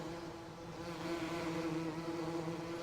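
Bees buzz in Farming Simulator 19, a steady droning hum with a clear pitched tone that swells slightly partway through and holds, close and moderately loud with no talking.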